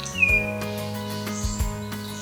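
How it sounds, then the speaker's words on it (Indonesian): A high, thin forktail bird call slides briefly near the start, followed by scattered faint chirps over a steady background hum, in a forest. "Terus juga ada tanda-tanda seperti kalau ada kicauan burung meninting"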